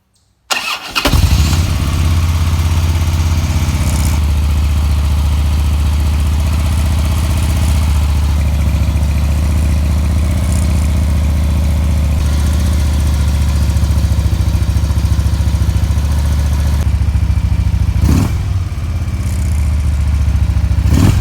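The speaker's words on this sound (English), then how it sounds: "This is a 2008 Harley-Davidson Road King," A 2008 Harley-Davidson Road King motorcycle engine runs steadily and loudly up close with a deep, lumpy idle rumble, starting up after a brief silence and holding for about twenty seconds with a short dip near the end.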